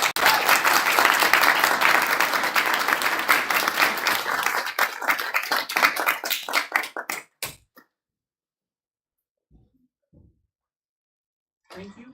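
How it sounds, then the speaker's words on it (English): Audience at a spring speakers forum applauds a speaker: loud, dense clapping from many hands that thins out and stops after several seconds, leaving near silence with a few faint scattered sounds. "Can we all give it another round of applause for Kira?"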